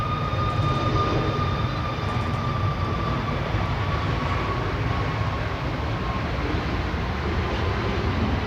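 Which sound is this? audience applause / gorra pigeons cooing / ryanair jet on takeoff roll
ryanair jet on takeoff roll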